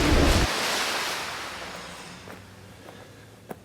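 Waterfall splash: a loud, rushing burst of water at the start that fades into a long, washing roar, with a small knock near the end.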